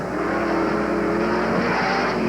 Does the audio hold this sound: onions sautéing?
no